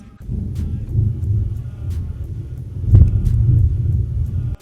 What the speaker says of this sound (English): That was not my stomach, that was thunder.